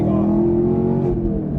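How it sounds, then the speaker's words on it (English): A 2016 Camaro SS engine drones loud and close during a rev-matched downshift and pull away, a steady low rumble that holds without a break. "You hit the clutch and you downshift."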